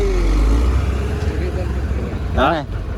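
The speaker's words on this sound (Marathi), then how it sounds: "पाठीमागे ट्रक चाललेला आहे." A truck grinding along in heavy traffic on a ghat road, its engine rumble loud and close alongside other vehicles, with a short horn-like tonal burst near the end.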